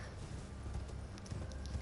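Horse hooves galloping in Elden Ring, a steady rhythmic clip-clop under a dense, loud game soundscape with a low rumble.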